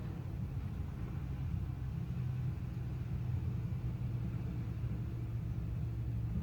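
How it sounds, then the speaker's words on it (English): A truck driving past, a faint, steady low rumble of a medium engine that holds through the stretch with a slight swell in the middle, with no talk over it. "Waiting for that truck to go by."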